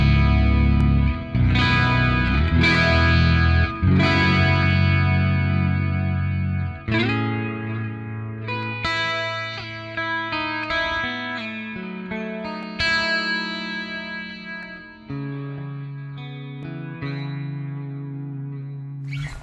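Heavily distorted metal guitar through the Neural DSP Archetype Gojira amp plugin, bright switch on but dialed thick and warm, playing sustained chords and ringing notes with reverb tails, loud and alone with no voices.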